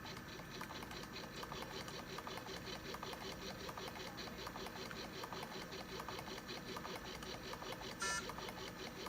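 A Belmont rapid infuser pump runs at full push rate through a 14-gauge line, giving a steady rapid mechanical whirring with a fast repeating pulse that never lets up, close and moderately quiet, with a brief higher chirp near the end.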